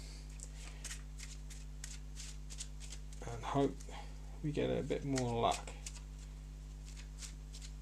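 Board game pieces are shuffled by hand in quick, dry rattling bursts during a tabletop play test, with a person speaking briefly in the middle.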